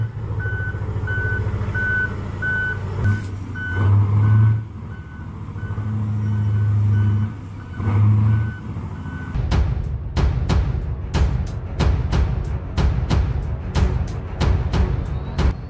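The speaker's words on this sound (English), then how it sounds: "the tow-haul Komatsu 830 is helping the Komatsu 930 truck that crashed at the Kalawasi Rosario mine out." At the Kalawasi Rosario mine, a Komatsu 830 dump truck tows a crashed Komatsu 930 truck. A heavy engine drones throughout, then a loud series of rapid, close reversing beeps takes over.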